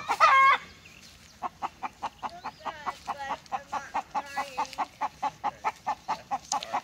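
A rooster gives a loud squawk, then a long run of rhythmic, rising clucks, like a hen's egg-laying cackle, close by with no voices.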